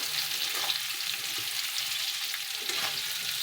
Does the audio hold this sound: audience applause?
no